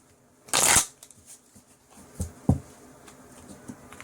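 A tarot card deck is shuffled in one quick, crisp riffle close by, followed by a few soft taps and card handling in a quiet room.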